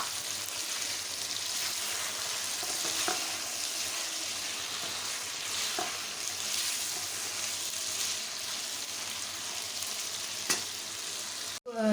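Cabbage and green chilies fry in a pan with cauliflower and potato for a mixed vegetable sabzi, giving a steady close sizzle with a few soft stirring clicks and no talking.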